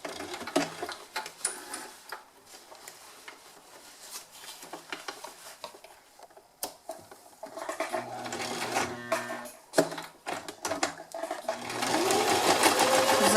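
A sewing machine stitches pinned fabric in quick rattling bursts, pausing and restarting, with the runs growing louder and longer toward the end.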